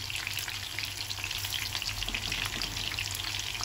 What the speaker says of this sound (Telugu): ఈ విధంగా వేగితే చాలు.